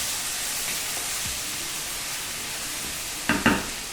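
Ginger and garlic paste frying in a pan for chilli masala prawns, a steady soft sizzle throughout with a couple of sharper clatters near the end, no talk.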